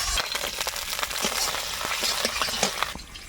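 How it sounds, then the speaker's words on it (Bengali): Chopped onion and garlic frying in hot oil, a dense, loud, steady sizzle with scattered crackles and stirring scrapes, close up and continuous throughout. "তেলের মধ্যে একটু পেঁয়াজ কুচি আর রসুনটা কুচি করে নিয়েছি দিয়ে দেবো"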